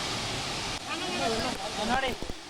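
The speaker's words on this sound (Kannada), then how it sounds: "ಈ ರೇಂಜಿಗೆ ಇವತ್ತು ಈ ಫಾಲ್ಸ್ ಚೆನ್ನಾಗಿದೆ" Ermeyi waterfall roaring as a steady broadband rush of falling water, with a voice speaking over it partway through.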